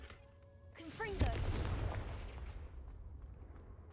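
A fiery Confringo blast spell cast in the Hogwarts Legacy video game, a loud booming burst that swells after a brief whoosh and then rumbles and fades over a few seconds.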